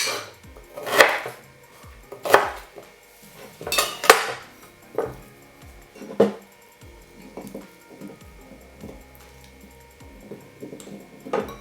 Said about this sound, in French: On découpe le gingembre en petits morceaux pour que ça puisse s'infuser assez bien.